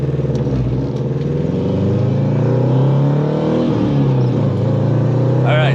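Honda Integra GSR on its first drive after a chassis-mount shifter install, a steady loud engine drone heard from inside the car with rising and falling revs across the gears, continuous throughout.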